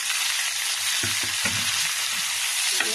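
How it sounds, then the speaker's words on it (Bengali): Boiled Malabar spinach greens from a rooftop garden hit a pan of browned onions with a loud, steady hiss of frying, broken by a few soft stirring thumps. "পেঁয়াজগুলো বাদামি করা হয়ে গেছে, এবার এই যে সিদ্ধ করা শাকগুলো দিয়ে দিলাম।"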